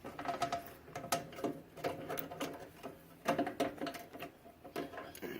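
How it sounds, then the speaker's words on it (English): A wrench works loose a hard-to-reach screw, giving quiet, irregular ticking and clicking in uneven bursts, close by and faint, with no voices. "So we're using a wrench to loosen it up."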